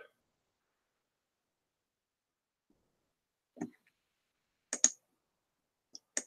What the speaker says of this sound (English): You hear me doing a lot of clicking